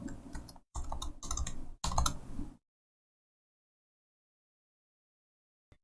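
Keystrokes on a computer keyboard in a few quick bursts of close, crisp clicks over about two seconds, then silence apart from one faint final tap.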